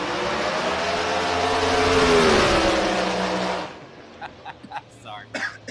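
A race car launches down a drag strip, a loud broadband engine roar building for over three seconds before cutting off abruptly, followed by faint scattered background sounds.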